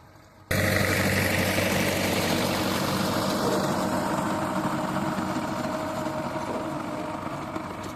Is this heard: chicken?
no